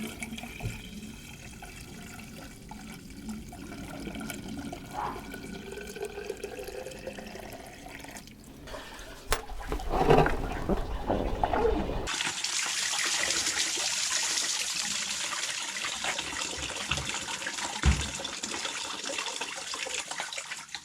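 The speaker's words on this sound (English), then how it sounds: "filling it up with water and then just blowing gently into this expansion tank, just to add a bit of positive pressure to flush the water through the system" Water is flushed through the cooling system of a Dacia Duster Mk1 1.2 into a bucket, a steady rushing, trickling pour that grows louder and fuller partway through, close by with no talk.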